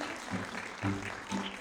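Applause at a children's ballet studio recital for a two-year-old girl, a short burst of scattered clapping mixed with murmuring voices, fairly faint.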